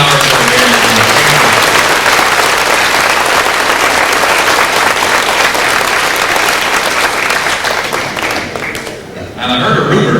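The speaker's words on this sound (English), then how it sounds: "I'd like everybody to give a nice round of applause for our two sound men back there." Loud, enthusiastic crowd applause at a 1993 fiddle contest in Govan, Saskatchewan, saluting the sound crew, a dense sustained roar of clapping that tapers off near the end.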